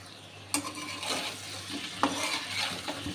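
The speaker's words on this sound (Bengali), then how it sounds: "এগুলো আমি একটু কষিয়ে দিব।" Pumpkin sautéing with turmeric, chili, coriander, cumin and salt in a pan, with a soft steady sizzle broken by sharp scrapes and clinks of a spoon stirring against the metal.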